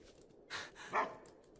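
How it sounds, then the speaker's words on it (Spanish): A pet dog gives two short barks close together, fairly faint against a quiet room, with no talking. "Es mi querido perro. Tranquilo, ladra, pero no pasa nada, no muerde."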